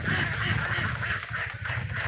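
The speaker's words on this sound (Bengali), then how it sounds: "আমরা এই যে গ্রামের হাঁসের ডাক দেখাইতে পারি।" Village ducks quack repeatedly in a busy, overlapping chorus, close and steady over outdoor background noise, with no people talking.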